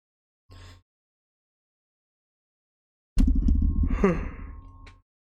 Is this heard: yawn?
yes